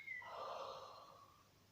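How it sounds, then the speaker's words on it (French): A long, breathy exhale through a wide-open mouth during a guided breathing exercise, soft and close, rising quickly and then fading out over under two seconds. "Ouvre la bouche, expire."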